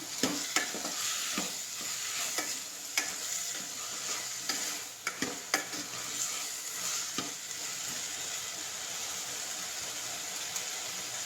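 Potatoes frying in oil for a simple potato palya, giving a soft continuous sizzle with frequent sharp scrapes and taps of a spatula stirring in the pan, no voices.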